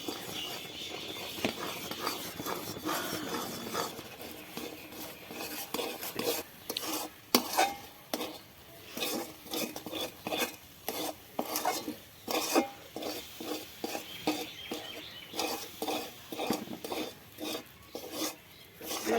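A spoon scrapes and stirs sattu (gram flour) being added bit by bit to a pan, producing repeated rasping strokes against the metal in an irregular rhythm, close and fairly soft, with faint sizzling beneath and no talking.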